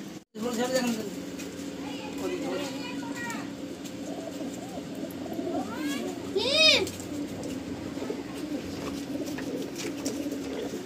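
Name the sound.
pigeons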